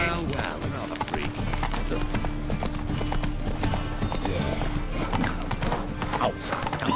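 Roach, the horse in The Witcher 3, gallops with a rapid, continuous clip-clop of hooves up close, a brief whinny in places and a voice talking over the game sound.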